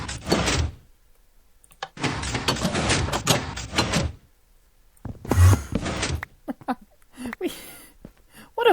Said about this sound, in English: We've broken the door a bit too harshly.